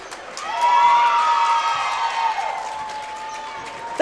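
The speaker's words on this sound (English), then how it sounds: "and the crowd going crazy" A gym crowd at a girls basketball game erupts in loud cheering and shouting, swelling quickly and holding steady, with a whistle-like tone carrying over the roar.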